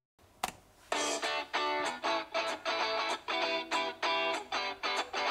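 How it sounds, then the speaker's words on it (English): Music plays at 50% volume through the down-firing speakers of a Lenovo Legion Pro 5i gaming laptop: bright, rhythmic bursts repeat in an even pulse, clear and close, with thin bass. "they sound like this. Audio test of the Legion Pro 5i."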